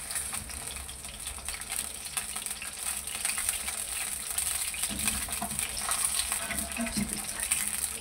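Onions frying in oil for bhindi masala, a steady close sizzle with faint stirring scrapes throughout, no talking.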